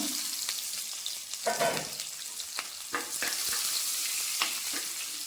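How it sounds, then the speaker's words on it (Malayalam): Small shallots crackle and sizzle in hot oil with popped mustard and fenugreek seeds, with a steady frying hiss and a few sharp pops and stirring clatters close by. "നമ്മളിതിലേക്ക് കുറച്ച് ചെറിയ ഉള്ളി ഇട്ട് കൊടുക്കുവാണ്."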